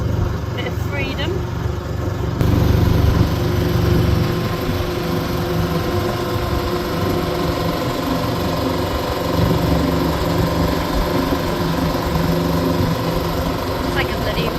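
A Yanmar boat engine runs steadily, a continuous low rumbling drone with a slight rise in level early on, sustained throughout.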